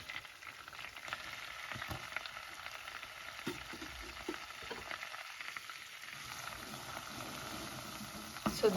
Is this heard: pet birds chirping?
no